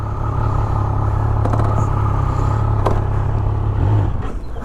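A Triumph Speed Triple 1200 RS motorcycle pulls away, its engine a steady loud drone with a low throb that swells slightly near the end, some light clatter on top and no talking.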